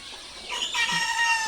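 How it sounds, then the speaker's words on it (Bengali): Sonali chickens cluck close by while a rooster crows in a brief, rising call that fills the second half. The burst is short and lively, with no talking. "সোনালি মুরগির মাংসের জন্য রেডি করছি"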